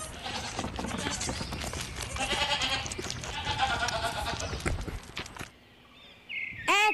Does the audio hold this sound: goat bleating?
yes